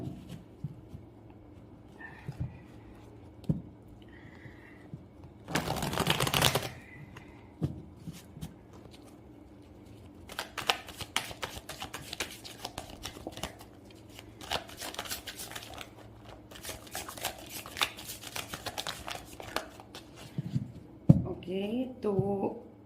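Tarot cards being shuffled at a reading, soft papery riffles and slides in several bursts with quiet pauses between, close and fairly faint.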